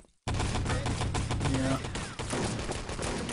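Rapid bursts of automatic gunfire and shots in the online shooter Enemy Territory, a loud continuous volley of crackling rounds with a commentator talking over the action.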